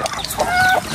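Hungry native chickens cluck briefly and close by, a few short squawks and a drawn-out call over faint background noise.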